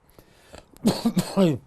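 A few harsh coughs in quick succession from a hoarse man, close to the microphone, after a quiet stretch with faint clicks.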